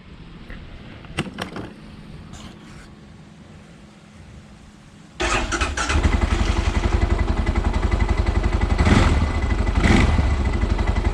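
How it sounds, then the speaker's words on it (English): An Arctic Cat ATV engine, flooded many times before, cranks with a few clattering sputters, then catches at about five seconds and settles into a loud, steady rumbling idle with occasional revs. "Just listen to this engine starting up"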